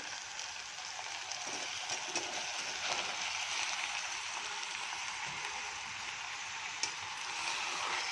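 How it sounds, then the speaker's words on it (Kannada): Chopped onion, tomato and brinjal fry in an oily pan, giving a steady, dense sizzle close by that holds evenly throughout, with one brief clink near the end and no talking. "ಇದು ಸ್ವಲ್ಪ ಚೆನ್ನಾಗಿ ಫ್ರೈ ಆಗಲಿ"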